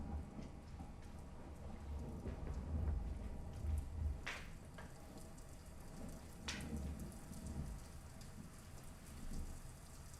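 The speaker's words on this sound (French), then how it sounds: "Dehors, il pleut." Steady rain falls outdoors at night, a dense continuous patter with low rumbling underneath and a couple of brief sharper crackles, with no voices over it.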